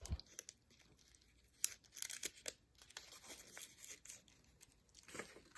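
Tape being torn and handled while building a paper house model from a single sheet, a series of short, close crinkly rips and rustles with quiet pauses between them.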